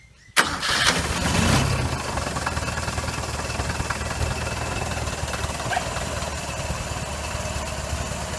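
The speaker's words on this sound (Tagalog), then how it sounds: "So ngayon po mga kaibigan ay start po natin." A Toyota 4K engine cranks and fires after a valve clearance tune-up, a sharp start followed by a steady, loud idle close by that settles into an even, smooth running hum.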